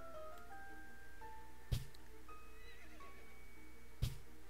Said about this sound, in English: And there's a horse over there.